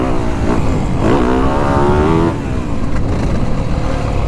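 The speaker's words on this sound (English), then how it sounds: "But boy, that engine is free revving." A 2023 Yamaha YZ450 Monster Edition dirt bike engine revs loudly and close, pitch rising and holding for a second or two before dropping back to a rough idle, with no talking.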